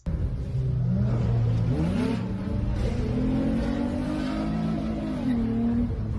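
An Infiniti car engine revs and drones steadily through its exhaust, pitch climbing and settling as it accelerates, loud and close throughout.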